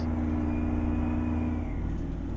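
A 1978 GMC Astro truck engine in American Truck Simulator drones steadily and loudly, a deep rumbling idle or rev that holds nearly constant with a slight pitch rise, alone without talk.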